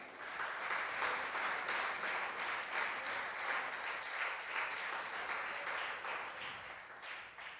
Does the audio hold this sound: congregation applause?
yes